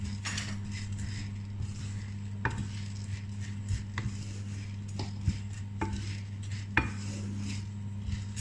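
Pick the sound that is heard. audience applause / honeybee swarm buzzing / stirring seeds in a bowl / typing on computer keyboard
stirring seeds in a bowl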